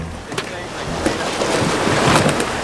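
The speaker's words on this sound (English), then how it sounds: "But we're getting rocked by the waves." Off San Diego, ocean waves slap and rush against a small fishing boat, with wind and water noise rising and falling in a rough, close wash, and a voice briefly heard over it.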